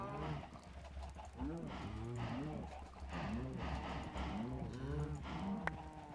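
Several cows in Minecraft moo repeatedly in overlapping, pitch-bending calls that carry steadily through the whole stretch, fairly close, with faint background game noise underneath.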